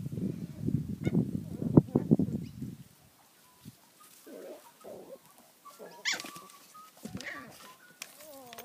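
Soft, high whimpers and little whines from puppies, scattered over several seconds, after a stretch of close, muffled handling noise.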